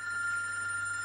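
A telephone rings with a steady electronic tone that holds unbroken for about a second, with no voices.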